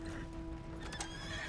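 A horse in the Western video game Red Dead Redemption 2 lets out a faint, brief neigh over a low hum, with soft hoof clip-clops mixed in.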